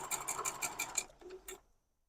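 A sewing machine stitches a potato chip quilt block in a quick run of about six rhythmic, ticking needle strokes, then slows with a couple of softer clicks and stops into silence.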